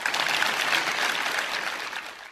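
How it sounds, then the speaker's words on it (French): Concert audience applauding at a Chopin nocturnes piano recital, a dense steady wash of clapping throughout that tapers slightly at the end. "je vous demande d'accueillir par vos applaudissements Jean-Yves Clément et Brigitte Engerer"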